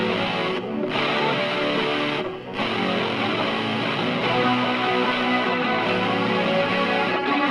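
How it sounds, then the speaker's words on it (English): Layered fuzz electric guitar parts, a doubled line plus a harmony line, played together in a home studio mix; dense, loud and sustained with steady distorted tone throughout, no voices. "So that's my fuzz guitar one. Then Chris doubled it."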